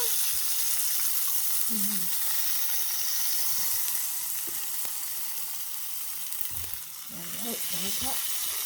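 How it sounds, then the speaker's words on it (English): Hot cooking oil is drained from a frying pan of salmon, producing a loud continuous sizzle and hiss up close, with brief voices murmuring in the background. "Probably just going to drain the cooking juice, the cooking oil."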